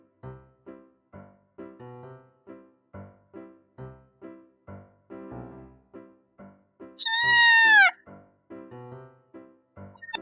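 A cat gives a rapid run of short, rhythmic meows or chirps, evenly spaced and close, broken by one long, loud, high-pitched drawn-out meow near the end before the short calls resume.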